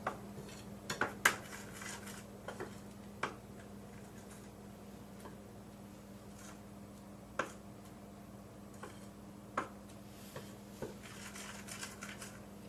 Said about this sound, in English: I'm going to stir this in with the yeast and sugar and a little bit of flour